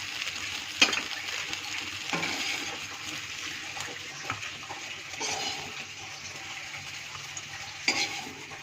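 Soybean chunks frying in hot oil in a wok, with a soft continuous sizzle broken by scraping stirs and occasional clinks of the spatula against the pan.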